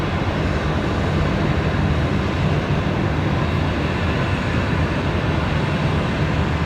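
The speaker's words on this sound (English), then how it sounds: "Never get tired of the A380 departure." An Airbus A380 departs Brisbane Airport with a powerful, continuous broadband jet roar that stays loud and steady, filling the air without pause.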